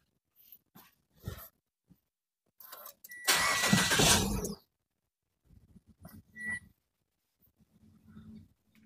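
2022 Mitsubishi Xpander engine during an oil change and engine flush: a loud, brief start burst stands out amid scattered short noises, followed by quieter low running sounds.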